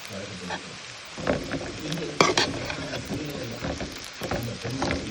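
A spoon scrapes and stirs foxtail millet semiya upma in a pan, with soft sizzling and a few louder clinks against the metal, close and continuous.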